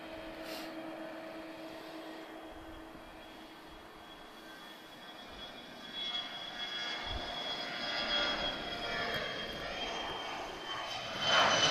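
A jet airliner departs Lisbon Airport, its engine roar building steadily over the clip from a moderate distance into a loud, broad rumble near the end, with no talking.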